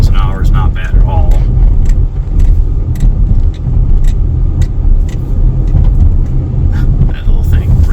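Road rumble inside a 2017 Kia Sportage cruising a side street at about 20 to 30 mph, a steady low drone with small rattles and clicks, while someone talks over it throughout.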